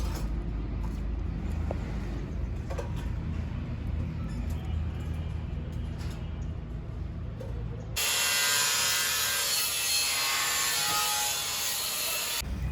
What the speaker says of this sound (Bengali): এইভাবে ভুসি কাটিং করার জন্য, জিরো সাইজের খড় কাটার জন্য 4 ব্লেড 6 ব্লেড যুক্ত মেশিন